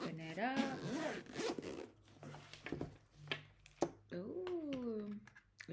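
A zipper on a small box holding a GoPro Hero 9 Black is pulled open in a few quick close rasps, with a voice speaking between the pulls.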